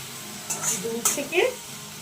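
Water used to wash spices is splashed into spices frying in a pan, giving a short burst of hissing sizzle with a few scrapes of a stirring spoon, close and moderately quiet.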